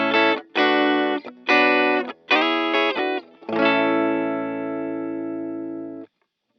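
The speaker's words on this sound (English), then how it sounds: "This is my kind of cleaner sound. It's the sound that I landed on for my tracks, like an AC30 type sound." A cleaner AC30-type electric guitar tone plays a few short, chiming chords with brief gaps between them, then a final chord rings out and slowly decays before stopping.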